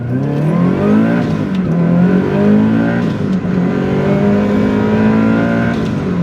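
A Subaru WRX STi Type RA, a 1990s Japanese car with a boxer four engine, accelerates hard through short first gear, its loud, steady engine note rising and falling close by, with no talk.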